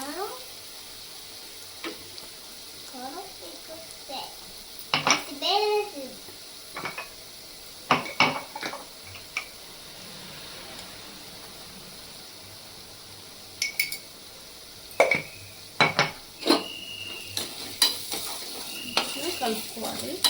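Chili powder is stirred into ginger-garlic paste frying in a pan for crab curry: a low, constant sizzle broken by scattered, sharp spoon scrapes and metal clinks close by, with no voices.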